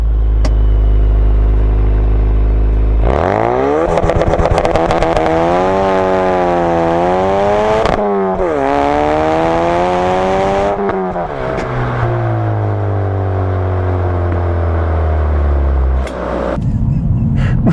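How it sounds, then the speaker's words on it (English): A Ford Focus RS engine roars under launch control, revs climbing hard through rising harmonic sweeps, briefly dropping and surging again, then settling to a lower droning pull, loud and close from inside the car without talk. "floor the accelerator."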